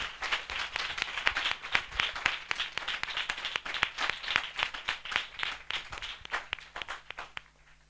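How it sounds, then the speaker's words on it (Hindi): Church congregation clapping loudly to welcome a speaker, a fast rhythmic run of many hands that rises, holds and then thins out near the end. "हम जोरदार ताली से उनका स्वागत करें।"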